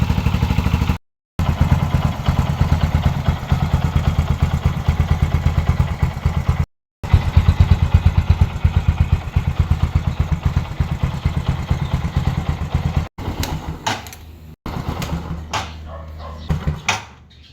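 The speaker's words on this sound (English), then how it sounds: "Start the engine and let it idle for about a minute to let oil circulate." A Bajaj CT 125 motorcycle idles steadily after an oil change, its single-cylinder engine putting out an even, close, rapid putter that drops out briefly twice and turns choppier near the end.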